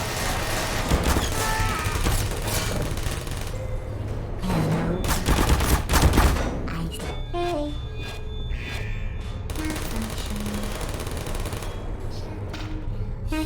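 Turrets open fire in an ambush in the video game Portal. Loud, continuous automatic bursts sound close, with mechanical clanks and shifting tones as the fire continues.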